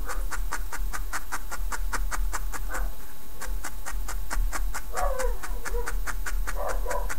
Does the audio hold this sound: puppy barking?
yes